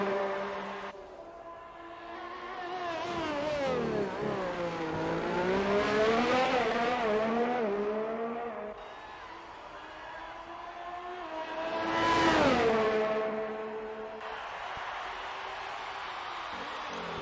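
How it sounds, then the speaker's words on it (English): A racing car in a video game screams through a flying qualifying lap on the Austria circuit, its engine rising and falling through gear changes, loud and continuous with one sharp peak as it sweeps past. "And here goes Den Jeff for his flying lap to start off the Q3 set of times for our final 10 drivers."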